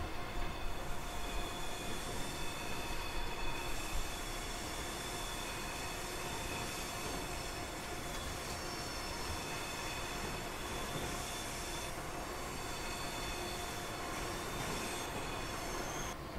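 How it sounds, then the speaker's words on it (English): A train rolls steadily along rails in Train Simulator 2019, a continuous dense rumble with wheel squeal and faint clickety-clack throughout, loud and unbroken for the whole stretch with no voices. "look at this beautiful train"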